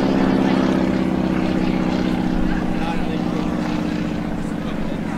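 A steady, droning radial piston engine warbird roars close by in an airshow flyby, a continuous throbbing hum that stays loud throughout with faint voices underneath.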